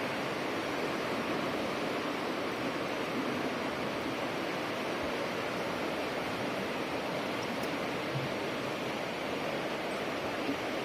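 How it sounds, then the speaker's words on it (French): Waterfalls rush through the narrow limestone Gorges du Fier, a steady, dense roar of falling water that stays constant and fairly loud throughout, with no voices. "le truc le plus cool, c'est vraiment les cascades"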